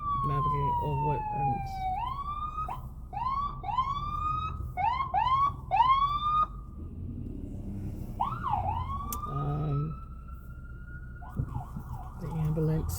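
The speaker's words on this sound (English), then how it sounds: "The ambulance, you guys." A loud ambulance siren wails and yelps nearby, sweeping up and down in repeated rising whoops, with traffic rumble underneath.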